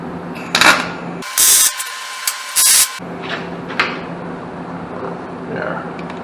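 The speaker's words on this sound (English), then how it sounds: "I'm going to tack top and bottom before I pull the clamp off so that these don't bend" Tack welding on a trike main frame built onto a 2010 GL1800 Endeavor, two short bursts of welding buzz with clicks and clanks of metal handling around them, someone talking quietly between.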